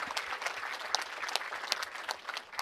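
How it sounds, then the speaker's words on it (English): Applause from an audience at a championship weekend awards ceremony, celebrating an engaged couple: dense, steady clapping from many hands, fairly close and sustained throughout, with no talking over it. "give them a round of applause"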